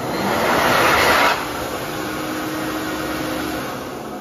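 A steady, loud blast of rushing air from an ASI hand dryer in a men's restroom, strongest in the first second before easing to a slightly lower, continuous roar.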